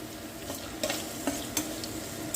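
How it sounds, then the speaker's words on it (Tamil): Cinnamon, cardamom and cloves sauté in butter for a Jaffna cuttlefish curry, with a steady sizzle under quick, close scraping stirs of a spoon. "வாசன திரவியமான கருவாப்பட்டை ஏலக்காய் கருவாப்பூவலையும் போட்டு சேர்த்து வெண்ணெயில் வதக்குவோம்"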